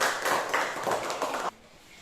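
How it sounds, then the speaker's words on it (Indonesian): A class of children claps for a classmates' group: dense, close clapping runs steadily for about a second and a half, then stops abruptly, leaving a quiet room. "tepuk tangan dulu buat kelompoknya Arista."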